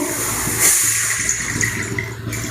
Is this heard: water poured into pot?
yes